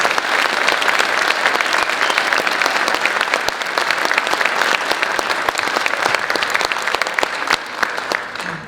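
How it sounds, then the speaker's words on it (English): A concert audience applauds for active military and local veterans at a spring concert, a dense, steady clapping from a large crowd that carries on for several seconds without talk. "One more round of applause for active military and our local veterans."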